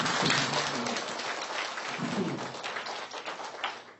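A large crowd at a spiritual gathering in Rohtak claps continuously, a thick, hissing wash of applause that stays loud and even throughout, with no talk above it.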